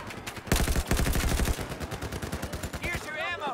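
Loud, rapid automatic gunfire from the video game Battlefield 4 in Rush mode, with dense overlapping bursts at first, then lighter shots trailing off near the end.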